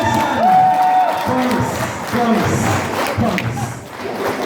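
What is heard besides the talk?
crowd applause at a wedding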